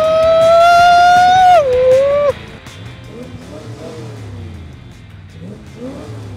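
A 1969 Jeep Gladiator truck engine: a loud, high whine climbs and holds, then drops off sharply, leaving a rumbling engine with faint voices under it.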